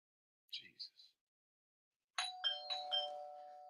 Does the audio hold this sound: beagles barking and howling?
no